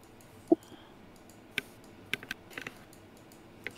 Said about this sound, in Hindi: चलो चलो मेरा कीबोर्ड का आवाज आएगा फिर।